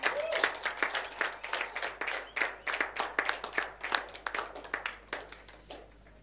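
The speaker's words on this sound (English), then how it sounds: "let's give her a round of applause." A small group gives a round of handclaps for Afua Asantewaa after her 126-hour sing-a-thon in Ghana, each clap crisp and distinct in an uneven quick rhythm, fairly quiet and gradually thinning out.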